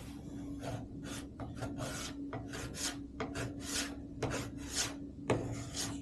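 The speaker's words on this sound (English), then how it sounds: "scraping out all that wax" A scraper rasps ski wax off a ski base in a steady series of long strokes, each a bright gritty scrape about half a second long, close and continuous with a low hum underneath.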